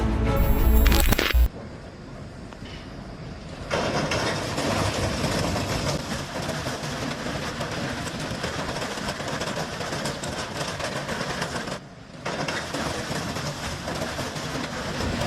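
A train rolls heavily toward a stop with a steady rumble and clatter of wheels. Brief abrupt cuts break up the otherwise continuous mechanical noise.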